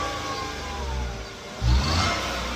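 A Nissan car engine, with its exhaust blockage cleared, idles steadily, then briefly revs up before settling back to a smooth, even hum.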